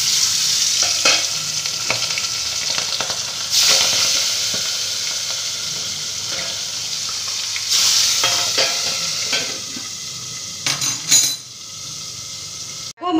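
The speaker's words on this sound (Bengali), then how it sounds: "এবার আমি ঢেকে ঢেকে মাছগুলোকে ভেজে নেব" Boal fish frying in salted mustard oil in a covered pan, a close steady sizzle broken by louder bursts and clinks of a utensil against the pan, no voices.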